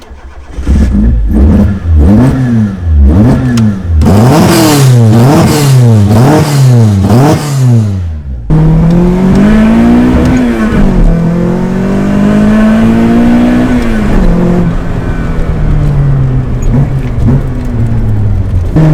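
A Toyota KE70 Corolla drift car engine, close and loud, revs hard in rapid repeated blips, then settles into a sustained, rising and falling drone that carries on to the end.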